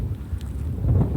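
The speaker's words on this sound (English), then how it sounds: "wind blowing in my face" Wind buffets the microphone out on open water while fishing from a rocking boat in central Florida, a steady low rumble that lasts throughout.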